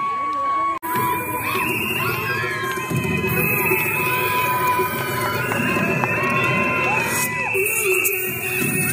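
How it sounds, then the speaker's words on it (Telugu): At a wedding celebration, a large crowd cheers and shouts in a loud, sustained roar, with children's yells and whoops and a brief dropout near the start. "ఒక్కసారి గట్టిగా చప్పట్లు కొడుతూ వెల్కమ్ చెప్పాలండి ప్లీజ్"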